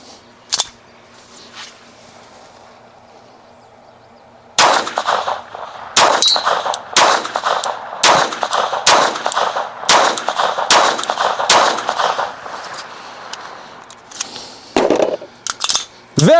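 Pistol shots ring out at a shooting range: after a lone early crack, a string of about a dozen sharp, loud reports fires at a steady semi-automatic pace, with metallic clinks between them.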